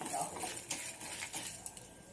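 Garlic and Guntur chillies fry in a pan with a soft crackling sizzle while a utensil scrapes and clinks against the metal, a few sharper taps marking the stirring, all fairly quiet and close.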